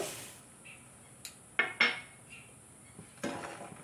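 A spoon scrapes and clinks against a metal pot while sugar is stirred into boiled milk for mango phirni, a few sharp clinks and scrapes spaced out over quiet background.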